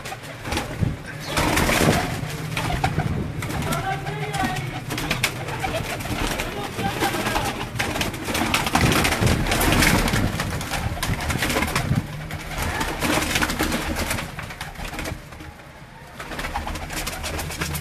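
Pearl-marked gogay pigeons kept by a fancier in Gujranwala coo in a steady, throaty murmur, with people talking continuously over a busy background.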